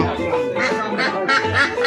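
Ducks quack repeatedly in short nasal bursts, close by, with a faint murmur of people in the background at a village market.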